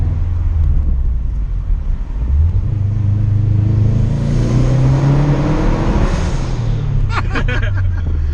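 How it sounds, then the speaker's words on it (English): A custom 1950 Studebaker truck revs hard inside a tunnel, its engine climbing in pitch with a loud, echoing roar, then easing off as a few brief crackles and pops sound near the end. "you can let it rip through the tunnel a little bit"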